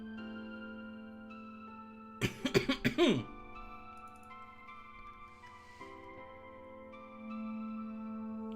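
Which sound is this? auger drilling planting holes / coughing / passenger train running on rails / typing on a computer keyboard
coughing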